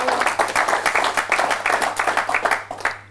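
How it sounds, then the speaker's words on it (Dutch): Lively audience applause in a local TV talk show studio, loud and close, with distinct rapid claps in an even rhythm that carry on before stopping abruptly at the end. "mag ik nog een keer een applaus voor Jolanda de Win."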